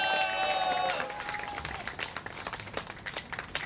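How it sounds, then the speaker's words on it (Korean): An audience at a talk applauds a student with fairly faint, scattered clapping that continues throughout, some fading tones early on and no clear speech. "우리 김동원 학생에게 다시 한번 큰 박수 부탁드립니다."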